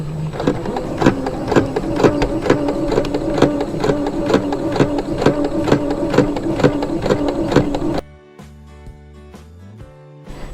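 A sewing machine runs slowly for about eight seconds, stitching elastic thread to make smocking, its steady repeated needle clatter loud and close before cutting out to a quiet, faint tail.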